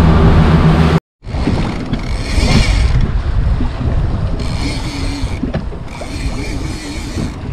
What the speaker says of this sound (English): All kind of boat traffic.